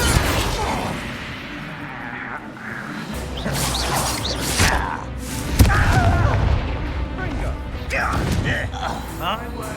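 In Hogwarts Legacy, a Bombarda spell blast erupts among goblin foes as a heavy, booming crash with whooshes and mechanical clatter, layered under spoken dialogue.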